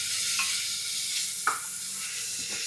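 Onions and shallots frying and being stirred in a pan for a chicken dish, a steady close hiss with a few sharp scrapes of the spoon against the pan.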